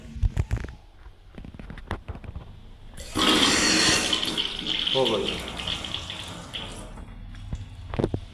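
Water gushing loudly from a just-opened pipe, a sudden roaring rush that swells midway and eases off, with scattered clunks and voices around it.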